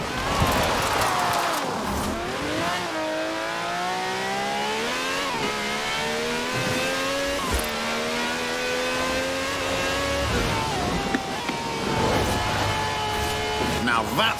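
A V12 car with over 750 horsepower drifting in Forza Horizon 4, its engine note rising and falling with throttle as tyres squeal, close and continuous, with someone talking over it.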